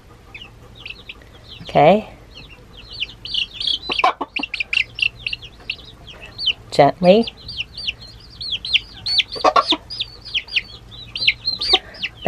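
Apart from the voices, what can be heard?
Silkie chickens clucking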